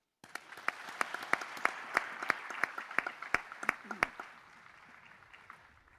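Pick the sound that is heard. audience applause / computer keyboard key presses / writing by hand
audience applause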